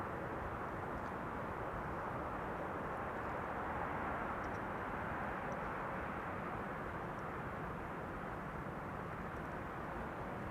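A Boeing 747 lands on runway 06 at Schiphol, heard as a distant, steady broadband jet roar that holds for the whole stretch without voices.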